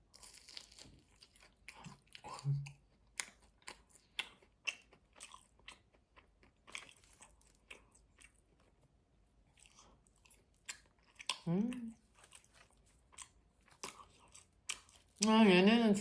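Fried fast food is bitten and chewed up close, with sharp crunches and wet chewing arriving in irregular bursts between pauses and a louder crunchy bite near the end; a voice speaks briefly at times.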